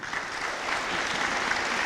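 An audience at a light-pollution prevention forum applauds Elizabeth Padilla, a brief, even wash of clapping at moderate distance with no voices over it.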